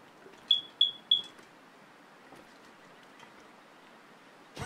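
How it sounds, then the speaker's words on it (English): A fire alarm in a room gives three quick, shrill, evenly spaced beeps, loud against a quiet background, followed by a brief sharp burst of noise. "Is that my fire alarm?"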